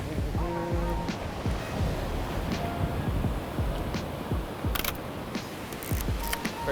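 Steady wind gusting across an exposed rocky shoreline, with surf washing in underneath; a continuous loud outdoor rush with a few sharp clicks near the end, no talking.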